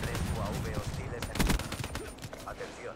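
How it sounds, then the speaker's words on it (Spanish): Rapid bursts of gunfire from the multiplayer mode of the video game Black Ops 3, loud and dense at first and thinning out, with a voice talking faintly underneath. "Qué buenos recuerdos esos tiros también."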